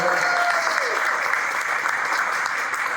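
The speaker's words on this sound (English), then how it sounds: "give MoCaFi and On Our Block a round of applause" Sustained audience applause fills the room at a community real estate investing event, a steady dense wash of many hands clapping loudly throughout, with faint voices mixed beneath.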